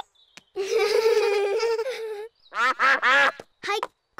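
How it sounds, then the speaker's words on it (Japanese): Cartoon ducks quack in a series of short nasal bursts, first one long honking run, then several clipped quacks after a brief gap, loud and close with no talk over them. "あ、アヒルさんだ"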